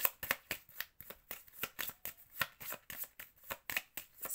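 Tarot cards drawn and shuffled by hand at close range: a quick, irregular run of crisp riffling and slapping bursts with short pauses between them, and no voices.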